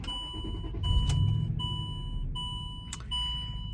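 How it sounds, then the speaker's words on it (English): A vehicle fitted with an EAS air-suspension compressor starts up, a low engine rumble swelling and settling to an idle beneath steady electronic chime tones and a couple of brief clicks, close and with no talk. "we're going to go ahead and start her vehicle"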